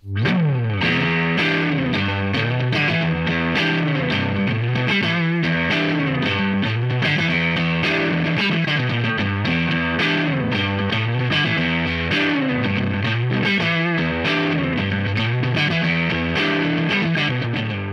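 A distorted electric guitar plays through a PRS HDRX 20 tube amplifier, a continuous, thick riff with chords and bends, loud and up close, with no talking.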